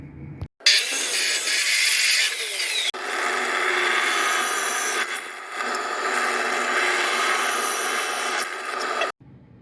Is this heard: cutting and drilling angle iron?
yes